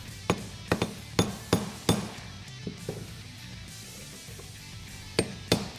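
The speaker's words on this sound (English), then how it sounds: "you can hammer the perch down and get the collar on" Steel hammer strikes on the spring perch of a 2017 Ford F-150 Raptor leveling kit during installation: sharp metallic blows, some in quick pairs, in two clusters separated by a quieter stretch, close and loud with no talking.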